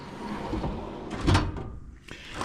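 A tool storage drawer slides out with a short scraping rattle and a single louder knock midway, heard close and fairly quiet in an otherwise still room.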